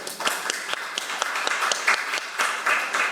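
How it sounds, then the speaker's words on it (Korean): Scattered applause from the audience at a medical innovation policy forum, individual claps standing out as sharp irregular bursts, moderately close and fairly light. "다시 한번 좋은 말씀 해주신 이인선 국회의원님께 큰 박수 부탁드리겠습니다"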